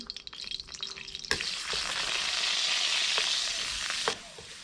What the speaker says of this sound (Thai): ใส่กระเทียมกับรากผักชีลงไปผัดให้หอม